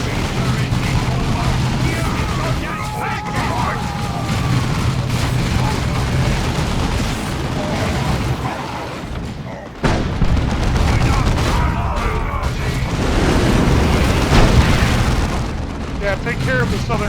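Mine grenades detonate in a sci-fi strategy battle, a dense stretch of heavy booms, crackling bursts and rumbling blasts running almost continuously, with someone talking over the din.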